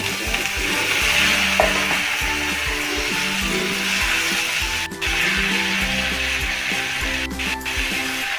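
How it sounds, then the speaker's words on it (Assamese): Chicken sizzles and fries steadily in a pan with onion, ginger, garlic, cumin, chili powder, salt and turmeric, with repeated scraping stirs and a few sharp clinks of the spoon against the pan. "নিমখ জোখমতে দি অলপ ভাজিলোঁ।"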